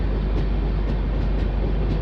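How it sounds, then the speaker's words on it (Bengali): Garib Rath Express moving slowly past Kumedpur Junction, a continuous close rumble from inside the train with faint rhythmic clicks. "ট্রেন এখন ধীরে ধীরে কুমেদপুর জংশন স্কিপ করছে"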